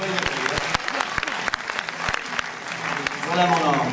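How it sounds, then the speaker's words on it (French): Audience applause at a short-film festival award ceremony in Trégueux, a dense steady patter of many hands with a few sharper claps standing out and a slight swell near the end, with voices murmuring underneath. "Applaudissements du public."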